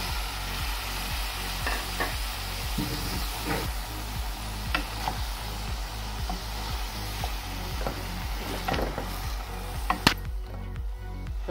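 Cucumber is added to prawn curry frying in a pan and stirred, with rhythmic scraping strokes of a spoon repeating steadily over a continuous sizzle, ending in a couple of sharper knocks.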